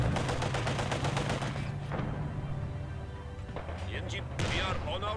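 Gunfire in the World War II strategy game Company of Heroes 2, played as the Soviet side, comes as rapid repeated bursts over steady battle rumble, followed by scattered shots and impacts.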